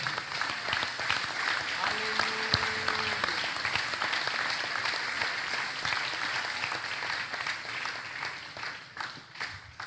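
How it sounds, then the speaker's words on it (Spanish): A church congregation applauding, a steady wash of many hands clapping that carries on for several seconds, with a brief tone and a voice speaking under it. "Dale un fuerte aplauso al que vive"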